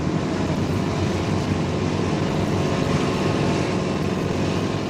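Military assault helicopters carrying troops lift off together in 1960s Vietnam, a steady loud engine and rotor roar that fills the whole stretch without pause, close and continuous.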